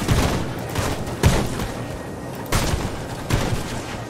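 Video game gunfire: repeated booming shots and bursts land every second or so over a steady noisy battle backdrop, fairly loud and continuous.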